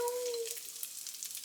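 Shrimp, cod and mushroom jeon pancakes frying in pans, a soft steady sizzle and crackle heard fairly close, with a brief faint tonal whine at the start.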